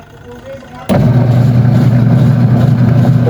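Washing machine with a broken gearbox starts up abruptly, settling into a loud, steady grinding hum with a rough mechanical rattle that continues without pause.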